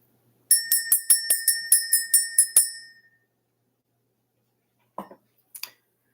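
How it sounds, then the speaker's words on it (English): A bell is struck about ten times in quick, even succession, each strike bright and ringing, rung to clear the energy; the tones fade into silence, followed by a couple of faint soft knocks. "Let's ring this bell. Let's clear out the energy"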